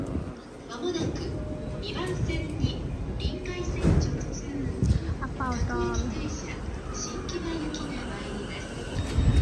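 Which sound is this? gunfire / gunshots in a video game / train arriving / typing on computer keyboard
train arriving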